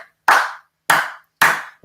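Hand claps, three sharp claps followed by the start of a fourth, spaced about 0.6 seconds apart, close and distinct against silence.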